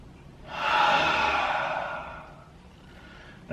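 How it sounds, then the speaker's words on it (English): A long, slow inhale through the nose and mouth during a calm mobility exercise, steady and close, swelling for a couple of seconds before tapering off. "Another deep breath in."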